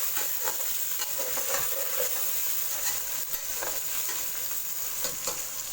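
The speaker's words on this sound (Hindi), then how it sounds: "अब हम इसमें ये टमाटर शामिल कर देंगे और थोड़ा सा इसे पकाएंगे, तकरीबन 1 से 2 मिनट तक।" Tomatoes frying over high flame with sautéed onions for a kofta masala, a steady broadband sizzle with occasional stirring scrapes throughout, close and continuous.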